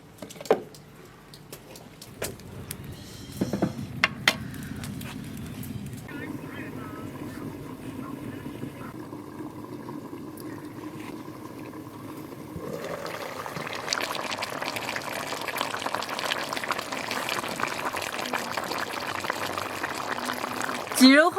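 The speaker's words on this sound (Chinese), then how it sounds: "来半瓶啤酒， 再加点水，盖上盖子，上锅炖。" Half a bottle of beer and some water pour into a pot of chicken and shiitake stew, a steady liquid gush running near and loud, with a voice speaking over it at the start.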